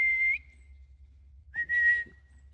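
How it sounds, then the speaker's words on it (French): A person whistles to recall dogs on a walk: two sharp, clear whistles, a short one followed by a longer rising blast after a pause, over a low steady hum. "Je vais siffler, ils vont revenir."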